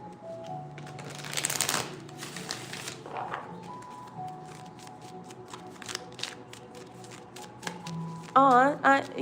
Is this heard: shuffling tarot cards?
yes